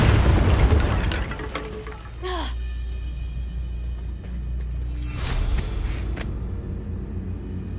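A Bombarda spell blast in Hogwarts Legacy, a loud deep boom up front that rumbles and decays, followed by a rising magical whoosh and a second swelling burst against a low game ambience.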